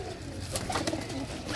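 A pigeon, a pearl-spotted rooftop bird, coos faintly a few times against a noisy outdoor background.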